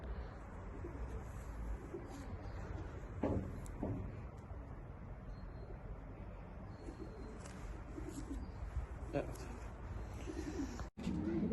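Homing pigeons in a breeding loft of Austrian racing stock coo steadily, with soft repeated calls and a few sharper bird notes over a dense, continuous background of wings and shuffling.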